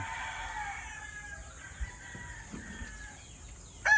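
A python gray gamefowl rooster crows loudly and close at the very end, after a stretch of quieter farmyard background with a few soft clucks and knocks.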